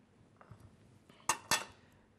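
A spoon clinks twice against a dish in a home kitchen while stuffed peppers are being prepared, two sharp bright strikes close together after a few faint softer taps, with no talk.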